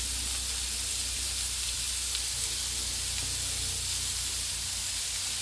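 Chicken seekh kababs sizzle steadily in a pan over low to medium heat, a constant close hiss with faint occasional crackles and no talking.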